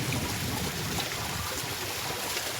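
Water running from a freshly cleaned natural spring fed by an inner source, a faint, steady trickling flow outdoors with no voices.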